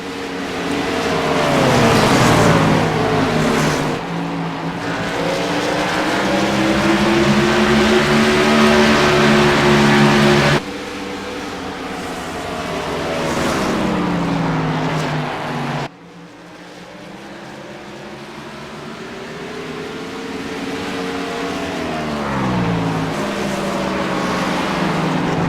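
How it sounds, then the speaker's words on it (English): Race car engines roar through a long stretch of sustained high-revving drone, with the pitch sweeping up and down as cars accelerate and pass. The sound is loud and continuous, and there is no talk. "Let's listen to those engines for a little bit."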